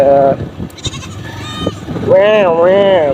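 A young goat bleats loudly and close, in several wavering cries along a rural path, with someone talking over and between the calls.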